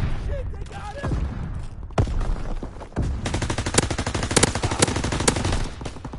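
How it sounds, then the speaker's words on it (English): Sustained machine gun fire from a World War II video game battle, with dense rapid bursts and sharp individual shots building in intensity, loud and close throughout, with brief voices mixed in. "Get suppressing fire"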